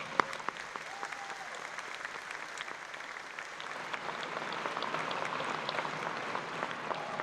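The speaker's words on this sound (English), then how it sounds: "So let's give everyone a round of applause." Crowd applause at a high school commencement ceremony, many hands clapping in a dense, sustained patter that holds steady and builds slightly over several seconds.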